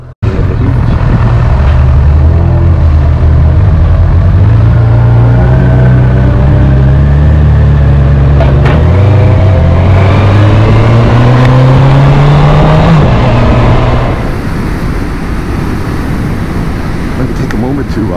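A motorcycle riding on the road in hot weather, a loud continuous engine drone with rising pitch as it accelerates and shifts gears, heavy wind rush over it, easing off near the end.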